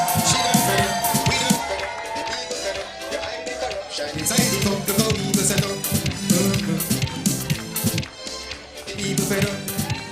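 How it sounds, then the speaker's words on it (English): A crowd at a political campaign launch in Georgetown claps and cheers loudly with rhythmic bursts, while an amplified voice talks over the noise. "Give her a round of applause"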